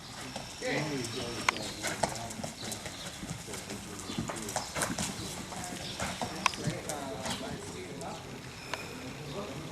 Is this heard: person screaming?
no